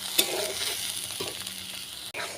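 Potatoes frying in a pan give a soft, steady sizzle with a light stir or scrape partway through, close and fairly quiet, no voices.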